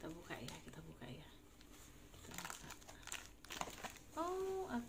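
Plastic packaging on a 410 ml Watsons exfoliating body wash being crinkled and torn open by hand, without scissors, with rustling and ripping bursts mixed with a person talking nearby.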